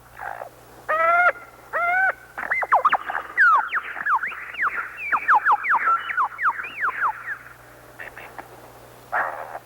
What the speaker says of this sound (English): From the depths of the forest echoes a haunting and memorable sound. The lyrebird, master of vocal mimicry.